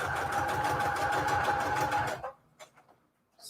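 A sewing machine runs a regular straight stitch around the border of a fabric square for a junk journal, a steady rapid mechanical whir for about two seconds that stops abruptly, followed by faint handling clicks.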